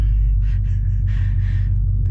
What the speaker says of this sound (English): And as soon as I started the car